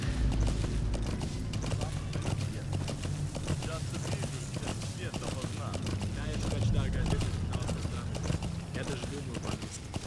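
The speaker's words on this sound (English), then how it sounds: "we're actually just gonna get back on our horse" Horse hooves clip-clop steadily in Metal Gear Solid 5: The Phantom Pain, a brisk rhythmic gallop with mechanical creaks and game ambience running throughout, loud and close.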